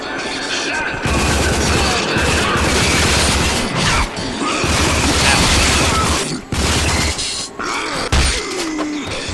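Shotgun blasts in the video game Rage, booming shots with mechanical clatter and crashing debris over a dense, loud game soundscape, with several heavy hits spread across the stretch and a voice talking at moments.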